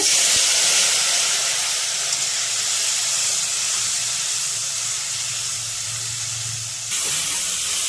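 Loud, steady sizzling hiss of spice paste frying in hot oil, continuous throughout with a brief change near the end.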